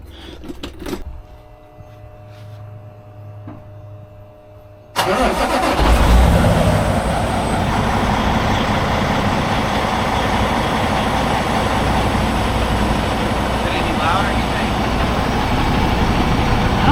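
After a few quiet seconds of faint clicks, a truck engine cranks and fires up loudly, then settles into a steady, rumbling idle that continues close by.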